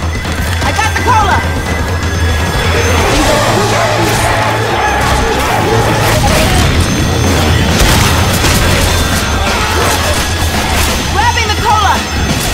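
A grenade blast in the Left 4 Dead 2 video game, with heavy rumbling booms and chaotic crashing gameplay noise throughout, mixed under shouting players.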